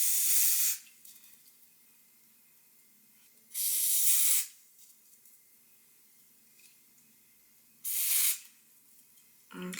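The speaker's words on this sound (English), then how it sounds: "Give a little spray." Hair spray hisses in three separate bursts, each about a second long and fairly close, misted onto a dark-rooted blonde wavy lace wig, with quiet pauses between sprays and no talking.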